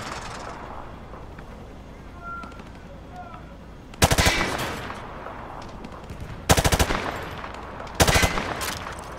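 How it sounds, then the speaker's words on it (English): Call of Duty Modern Warfare 2 machine gun fired from the hip in three loud, close bursts over a quiet outdoor ambience with faint bird chirps. "He sprayed bullets all over the damn place."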